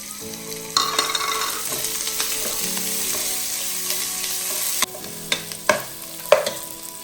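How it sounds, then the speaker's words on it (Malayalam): Crushed ginger, garlic and green chili fry in a pan for chicken curry, a loud close sizzle under repeated scraping strokes of a spoon that grow sharper toward the end. "ഇഞ്ചി വെളുത്തുള്ളി പച്ചമുളക് ചതച്ചത് ഇട്ട് നല്ലവണ്ണം ഇളക്കി കൊടുത്തു"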